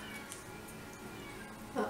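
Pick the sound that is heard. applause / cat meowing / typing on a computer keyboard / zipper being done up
cat meowing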